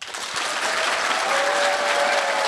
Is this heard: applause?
yes